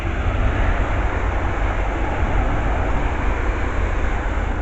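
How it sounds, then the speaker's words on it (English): A pair of Class 350 electric trains runs through North Wembley station, producing a loud, steady broadband roar and rumble that holds constant throughout, close by and with no voices. "And the next train passed by, we've got a pair of 350s"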